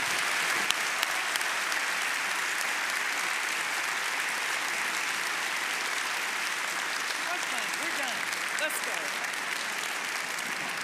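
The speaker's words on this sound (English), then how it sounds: "Once again, a big round of applause." A large audience at an evening book event applauds steadily for two authors, a dense, even wash of clapping that holds for about eleven seconds at moderate distance with no clear speech over it.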